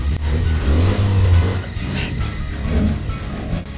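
A car driving off in a hurry, its engine revving up loudly close by, then a steadier rumble as it pulls away, without clear speech over it.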